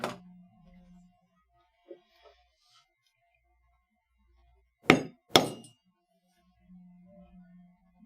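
Hammering while making a leather lampshade: a few sparse sharp knocks, then two loud close whacks in quick succession, with a low hum and quiet pauses between.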